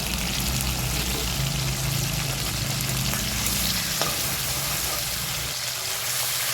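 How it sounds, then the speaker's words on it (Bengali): Eggplant fries in a pan with green chili paste and salt, giving a steady, close sizzle with some stirring and no voices. "এটা প্রায় আমার ভাজা ভাজা কমপ্লিট হয়ে গেছে।"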